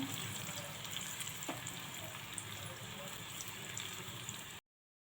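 Dried red chillies and shallots frying in oil for tempering a Kerala jackfruit curry, a steady close sizzle that crackles under a faint voice, then stops abruptly near the end.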